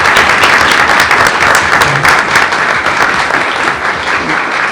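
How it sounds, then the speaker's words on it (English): Audience applause fills a board meeting room, steady dense clapping from many people held at full loudness for about five seconds before easing slightly near the end. "Let's give her a round of applause."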